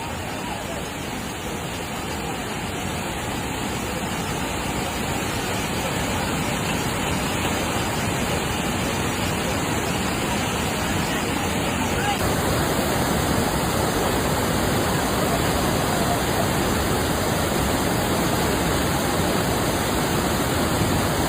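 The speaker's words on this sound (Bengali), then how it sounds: "পানি এত জোরে পড়ছে যে পাথরের উপর পড়ে আবার আলাদা মেঘ সৃষ্টি হচ্ছে।" The Jaflong waterfall crashes onto stones in a dense, steady roar that fills the whole stretch, loud and close, with no break.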